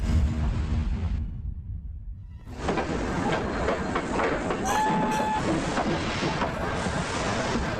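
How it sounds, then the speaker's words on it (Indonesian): A train rumbles in with a loud, steady roar, the noise briefly dropping before swelling again with clattering and a faint high squeal. "Tak lama kemudian kereta pun tiba."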